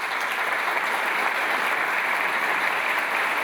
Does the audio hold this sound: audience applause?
yes